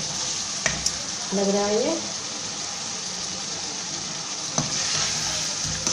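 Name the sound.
bone-in mutton sizzling while being roasted for bhuna gosht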